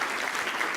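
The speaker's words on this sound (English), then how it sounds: "can we just give a big round of applause to the organizers for putting on this really amazing event?" Audience applause for the organizers of a developer conference, a steady dense wash of clapping filling the whole brief moment with no voices over it.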